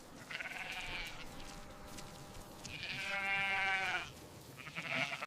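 Sheep grazing on a farm bleat repeatedly, with several drawn-out, wavering calls rising loud and close over quiet pasture background.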